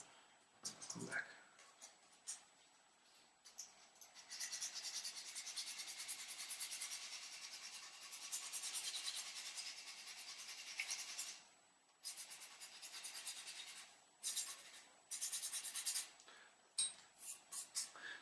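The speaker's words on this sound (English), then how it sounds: "rough sandpaper, put it around my finger and make it even." Rough sandpaper wrapped around a finger rubs a baroque bassoon reed, making soft, close scratchy strokes in bursts separated by short pauses, with brief quiet talk at moments.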